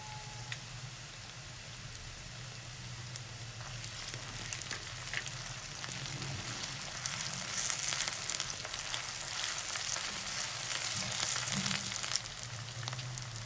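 Ginger garlic paste frying with lightly browned onions in a pan, a soft continuous sizzle that grows a little louder midway, with faint crackles and no talking.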